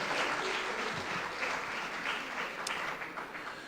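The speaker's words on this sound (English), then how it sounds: "Another round of applause for Paul." An audience at a memorial event honouring Baffour Osei Akoto breaks into steady, dense applause that carries evenly from start to finish, a broad wash of many hands clapping with no talk on top.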